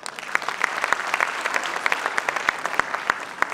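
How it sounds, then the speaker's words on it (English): Audience applause at a convent school's 60th anniversary celebration after a performance: steady, dense clapping from a crowd, sustained and fairly close throughout with no talking. "give a big round of applause for our superstar performance"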